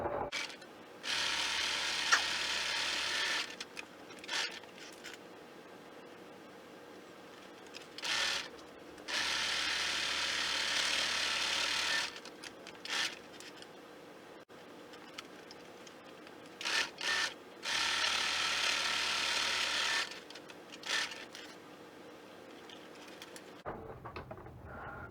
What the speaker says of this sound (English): now we're just going to go sew straight to the other corner